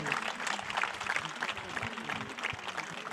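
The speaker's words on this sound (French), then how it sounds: "applaudissez bien les 3 intervenants" An audience at a French round-table conference on social justice and evangelisation applauds three speakers, a steady dense clapping from a crowd in a hall throughout.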